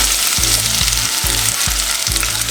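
Hot oil in a pan for a meat-free eggplant dish, with white onion going in, fries in a loud, steady crackling sizzle right at the mic, over a pulsing low hum that repeats about every half second.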